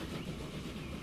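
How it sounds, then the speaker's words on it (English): A train rolls steadily through the landscape in the video game Transport Fever, a continuous mid-loud rumble with faint rail clatter and no talk. "So you can also check out the train, just traveling through the landscape."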